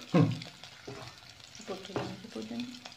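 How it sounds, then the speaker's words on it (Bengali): Chopped onion and green chilies hitting hot oil for cauliflower fry, a loud initial sizzle followed by spatula scrapes and crackling, close up. "পেঁয়াজটা প্রথমে নরম করে নিতে হবে আর মরিচটা তেলের উপর দিলে ঝালটা ভালো ছড়ায়"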